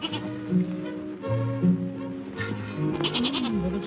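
A goat bleats several times in a row, wavering calls close by, with a mountain setting in the Alps.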